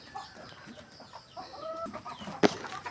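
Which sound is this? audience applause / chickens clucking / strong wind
chickens clucking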